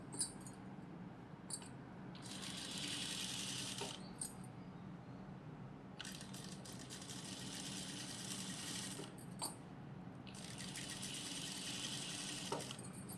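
A sewing machine stitches a chudithar in three long runs of steady, fast mechanical whirring, with short pauses and small clicks in between, close and moderately loud.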